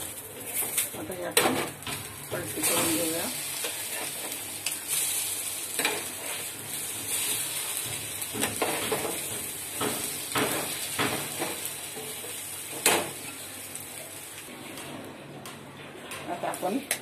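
A bread omelette fries in a pan with a steady sizzle throughout, under a voice talking, with birds cooing nearby.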